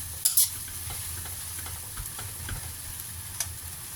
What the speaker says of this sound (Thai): ผัดให้แห้งนิดนึงนะคะผัดให้แห้งเลยจ้า